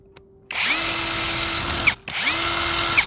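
A cordless impact driver runs in two sustained bursts, each spinning up with a rising whine, holding steady for over a second, then cutting off, loud and close with no talking.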